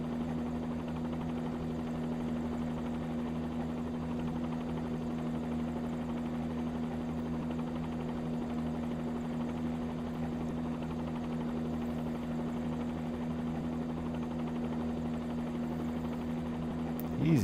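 A helicopter running steadily just after takeoff, a constant whirring drone with a strong low hum that holds evenly the whole time and swells briefly at the very end.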